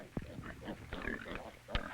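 Pigs on a rural Chinese farm in 1975, being raised in a campaign to boost pig numbers, grunt and oink in short irregular bursts at moderate distance, with a louder squeal-like grunt near the end.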